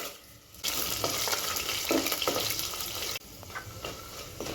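Coriander seeds, cumin, fenugreek and dry red chillies fry in a pan for gonguura chutney, a steady loud sizzle with brief stirring scrapes and a sudden drop in hiss partway through.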